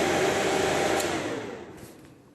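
Cooling fan of a six-channel electronic warfare jammer station whirring steadily close by, then winding down and fading over the last second.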